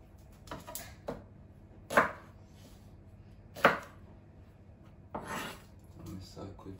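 A knife chops onion on a cutting board for a raw butternut risotto, with a handful of sharp, separate cuts spaced irregularly and close by.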